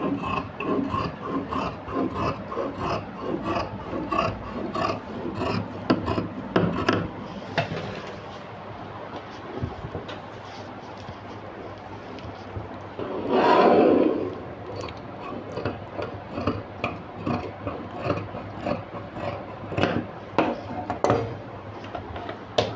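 Scissors snip through nighty fabric in a run of close, crisp cuts at an uneven pace, with some soft sliding and rustling of cloth in between and a brief louder rustle partway through.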